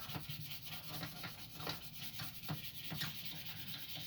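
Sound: sanding a knife with sandpaper

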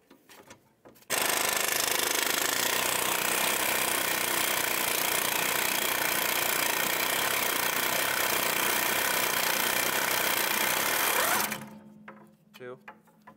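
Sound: impact wrench removing bolts on Chevrolet HHR rear brakes

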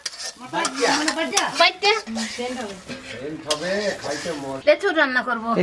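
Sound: frying and stirring prawns in a pan

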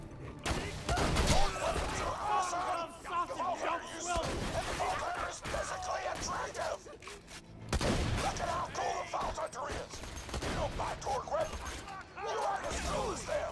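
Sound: Torgue gun firing in a video game (Borderlands 2 DLC)

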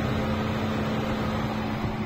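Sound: Opel Astra J A14NET radiator fans running under hood

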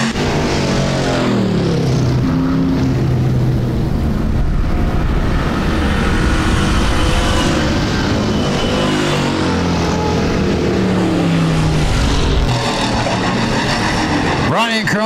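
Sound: sportsman class race cars racing at a speedway

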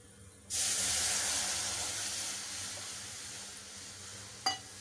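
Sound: pouring water into cooking pan

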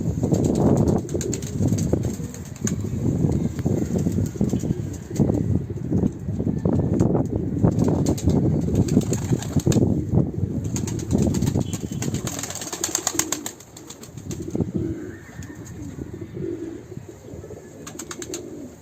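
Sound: birds in a breeding coop

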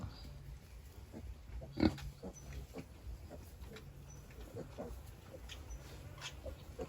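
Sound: wild boars squealing in a farm pen

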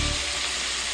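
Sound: honey pork ribs pan-frying and sizzling

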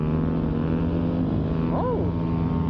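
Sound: KLX 300 dirt bike engine revving

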